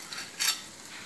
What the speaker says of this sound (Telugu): కొంచెం కలర్ మారే వరకు వేయించుకుంటే పచ్చివాసన ఉండదు.